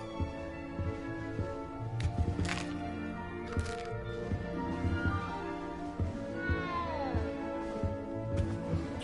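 A frightened cat meows repeatedly in Hogwarts Legacy, several distinct plaintive cries spaced across the stretch over a soft ambient game soundtrack, with a quiet voice occasionally beneath.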